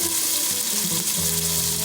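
Onions and peppers fry in olive oil over medium-low heat for Spanish yellow rice, giving a steady close sizzle that holds without a break.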